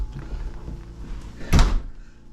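A door swung shut, a single loud close thump near the end after some quieter shuffling and handling noise, with no talking.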